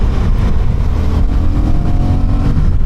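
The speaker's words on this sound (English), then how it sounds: "This motorcycle does not seem to have a problem pulling at any RPM, and it just keeps pulling linearly all the way through the rev range." Honda Hornet 750 motorcycle engine pulling steadily through its rev range, a loud, continuous close-up roar with wind noise and no speech.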